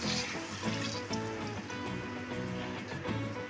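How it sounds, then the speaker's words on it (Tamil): Water pours steadily into a pressure cooker, a continuous close splashing and gurgling flow lasting a few seconds. "குக்கரில் ஒரு டம்ளர் தண்ணி கலந்து சேர்த்துக்கலாம்."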